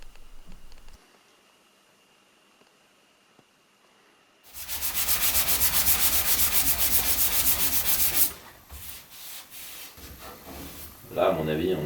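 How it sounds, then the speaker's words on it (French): Angle grinder working the sheet-metal panel of a Maserati Biturbo 4.24v under restoration: a loud, steady, harsh grinding roar for about four seconds after a quiet start, then tapering into lighter scraping and a brief knock at the end. "on va meuler tout ça, voir où ça nous mène"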